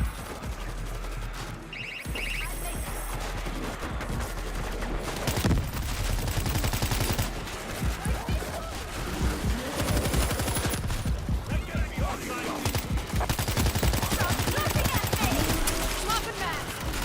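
An auto turret in the zombie shooter World War Z lays down sustained rapid gunfire. The dense shots crackle continuously over the game's background noise for the whole stretch.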